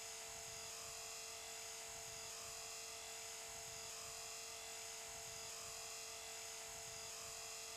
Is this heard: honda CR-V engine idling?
no